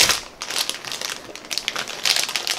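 Plastic packaging crinkles and tears in quick bursts, close up, with no voices.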